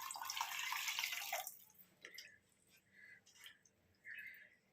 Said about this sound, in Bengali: হাত ধুয়ে